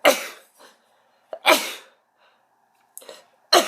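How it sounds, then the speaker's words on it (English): Several sharp sneezes burst out close to the microphone in quick succession, each followed by a short, breathy exhale and silence between. "Gotta sneeze."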